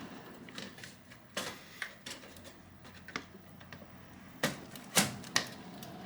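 A Gigabyte RX 6600 Eagle graphics card being fitted into a PC case, heard as a series of sharp plastic and metal clicks and knocks, with a louder snap near the end, close and without talk.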